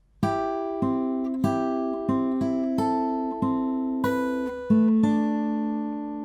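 Fingerpicked acoustic guitar plays the opening two bars of a song, with open fourth and third strings struck quickly; about ten clear plucked notes ring out one after another at a steady, unhurried pace, close and alone.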